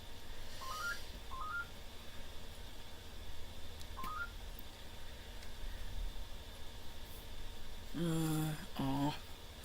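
A telephone number is dialled as short bursts of touch-tone beeps in quick groups, spaced out by pauses, followed near the end by two louder tonal beeps, all over a steady background hiss.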